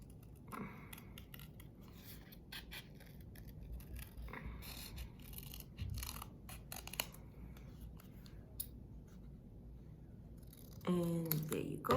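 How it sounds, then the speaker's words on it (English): Scissors snip through traced paper craft pieces for a children's story activity, giving a run of quick, close crisp cuts over a low room hum, with a brief rustle of paper near the end. "I'm gonna take my scissors and cut them."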